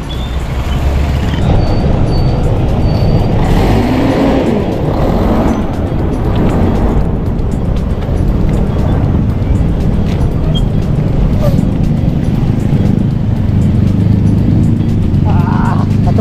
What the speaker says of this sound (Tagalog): Kaya ngayon traffic na kaagad, puro truck at saka bus.